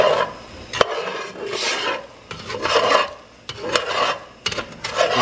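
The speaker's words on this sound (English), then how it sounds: "the one good thing about cast iron is you can be a little more aggressive with your stirring" A utensil stirs a Cajun chicken, pork and sausage sauce piquante in a cast iron pot. Close, rhythmic scraping strokes repeat in bursts with brief pauses, and nobody speaks.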